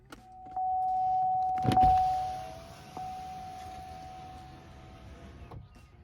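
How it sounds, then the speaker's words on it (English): Power window motor on a 2003 Cadillac CTS whirring steadily as the glass lowers, a sustained close hum lasting several seconds with a sharp click near the start and a lighter tick toward the end, no talking. "always put your window down"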